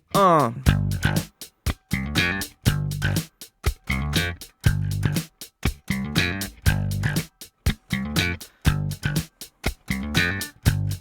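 A funky electric bass riff of sharp slapped and popped notes in a tight, repeating rhythm, punchy and close, played alone.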